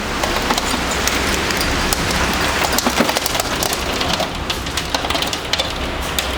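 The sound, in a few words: heavy rain with hail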